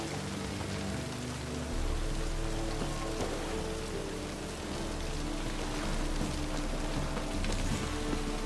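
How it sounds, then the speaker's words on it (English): Steady rain hissing and pattering across surfaces in The Witcher 3, a dense, even wash of drops with no talking over it. "Looks like rain."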